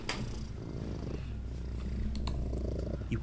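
A cat purrs steadily close by, a continuous low rumbling throb over about three seconds with a few faint clicks and rustles on top.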